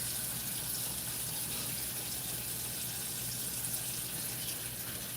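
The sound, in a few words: tap water running while rinsing vegetables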